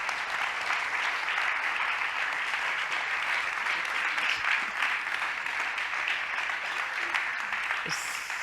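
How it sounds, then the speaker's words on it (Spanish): Long, even applause from an audience at an award ceremony and discussion event, a continuous wash of many hands clapping that holds steady for about eight seconds at moderate loudness. "Otro aplauso, por favor"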